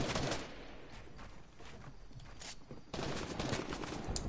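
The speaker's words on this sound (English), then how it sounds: "Kid below shooting now." Video game gunfire during a shootout between duo squads, dense bursts of rapid shots rolling almost continuously, louder at the start and again near the end, with no talk over them.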